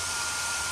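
Hair dryer blowing hot air onto freshly glued book binding, a steady broadband whoosh held without a break, close and fairly loud.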